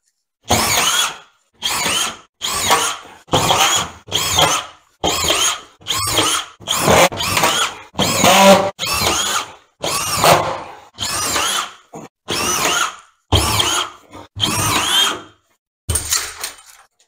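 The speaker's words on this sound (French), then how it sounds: "maintenant, je vais visser la plaque." A power drill screws a BA13 plasterboard panel into a self-supporting plasterboard ceiling, with about fifteen short, loud bursts of whirring and driving, each separated by a brief pause, close up and with no talk.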